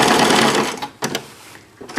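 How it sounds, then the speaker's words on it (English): Sewing machine stitching elastic onto a cloth pocket diaper, a loud close whirring run for about a second, then short stop-start bursts of stitching. "I'm going to secure it by sewing it."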